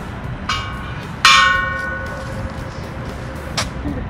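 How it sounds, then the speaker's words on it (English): A friendship bell in Victoria, B.C. is struck a few times outdoors, giving a short ring near 0.5 s, a louder clanging strike at about 1.3 s that slowly decays, and a final brief ring near 3.6 s over a steady background hum. "This is a friendship bell. Now ring it."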